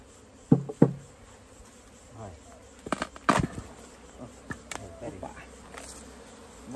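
Bees around a hive: a low, fairly faint buzzing hum under a series of sharp knocks and clattering handling noises, with someone speaking briefly.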